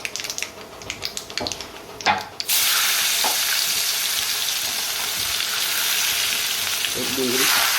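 Potatoes and onion drop into hot oil in a pan, a few knocks and clatters giving way to a sudden loud, steady frying hiss that continues close and uninterrupted.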